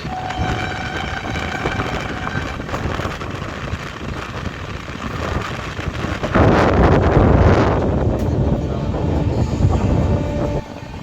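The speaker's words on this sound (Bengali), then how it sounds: "শিয়ালদা থেকে শিলচর কাঞ্চনজঙ্ঘা এক্সপ্রেস আবে।" The Sealdah–Silchar Kanchanjunga Express train pulls in with a loud, rushing rumble heavily buffeted by wind. The noise swells sharply partway through and then holds close and steady.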